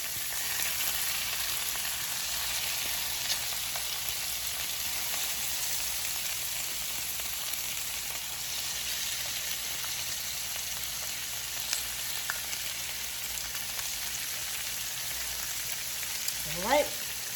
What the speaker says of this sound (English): just go ahead and lay that down so it gets a pretty good sear on it